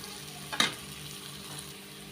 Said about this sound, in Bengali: নাড়তে নাড়তে নাড়তে নাড়তে ছালাপালা করে ফেলবো পেঁয়াজগুলোকে